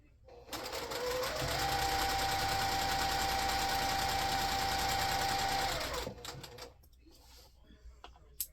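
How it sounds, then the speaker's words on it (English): A sewing machine stitches a rectangle and a half-square-triangle quilt block together in one steady, loud whirring run of about five seconds, then stops, leaving soft handling noises. "So I'm going to stitch those together."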